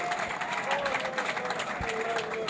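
Audience applause and cheering fill a book dedication ceremony hall, a steady dense clatter of clapping mixed with crowd noise and a sustained tone, with voices underneath throughout.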